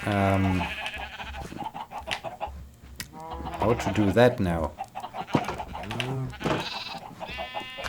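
Sheep bleat repeatedly in a farming video game, several wavering calls spread across the stretch and mixed in with a person talking.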